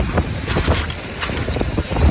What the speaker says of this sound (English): Let's get back away from the waves.